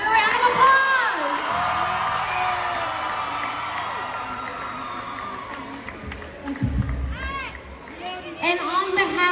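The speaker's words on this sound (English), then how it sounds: "Give her a round of applause!" Crowd at an Eritrean festival in Dallas cheers and whoops, with children shouting, a broad roar that fades and then swells again near the end.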